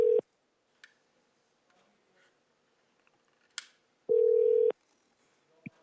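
An outgoing phone call's ringback tone: a short steady tone burst at the start and a longer one about four seconds later, with faint clicks between and no talking.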